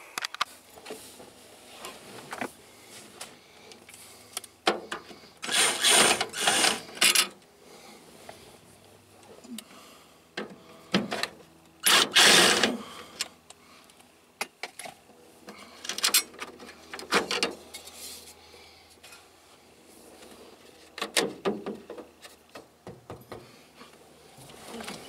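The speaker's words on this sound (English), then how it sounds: "let's get to pulling screws out" Screws being pulled out of the interior of a 1984 Chevy K20 truck, with scattered scraping, squeaking and clicking bursts of varying loudness spread across a quiet cab, with no talk.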